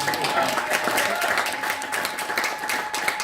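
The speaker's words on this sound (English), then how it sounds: "we should give him a round of applause" A crowd of attendees applauding at a parliamentary community awards ceremony, a dense, steady wash of clapping throughout with no break.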